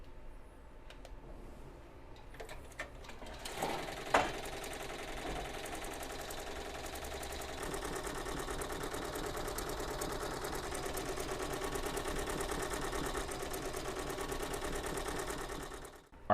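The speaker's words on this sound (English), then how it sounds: "Our embroidery is all finished on our Avance machine" An Avancé 1501C embroidery machine stitches an applique onto a towel in a steady, fast mechanical hum and rattle that runs continuously and fairly quietly.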